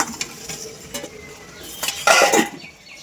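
Goat meat (mutton) in a pot is stirred with a metal spoon after the lid comes off, giving scattered clinks and scrapes against the pot over a faint simmer, with a louder burst of sizzling scraping near the end.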